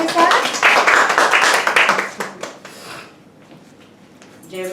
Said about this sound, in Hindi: प्रभु यीशु का स्वागत करते हैं तालियों के साथ